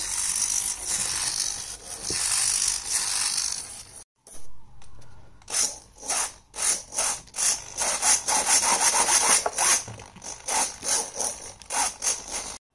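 A small hobby servo driven by a servo tester in window-wiper mode sweeps back and forth, giving a raspy, grinding buzz that rises and falls in repeated bursts, up close with a brief gap.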